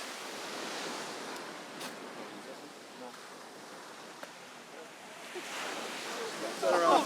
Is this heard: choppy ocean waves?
yes